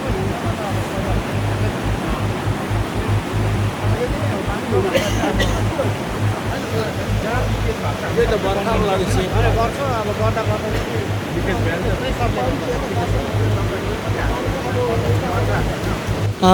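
Water gushing from burst pipes at the Ratey Chu water source supplying Gangtok, Sikkim, a steady dense roar close by that runs unbroken throughout, with faint voices mixed in under the rush.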